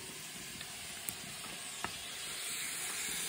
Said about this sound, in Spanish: El fogón está ahí a todo dar.